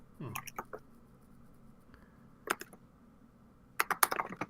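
Computer keyboard typing in scattered bursts of quick clicks, moderately near, with quiet room tone in between and no talk over it.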